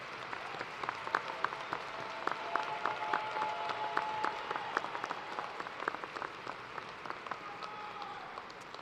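A large commencement crowd gives sustained applause for graduates' families and friends, dense steady clapping at moderate distance lasting throughout with no one speaking over it.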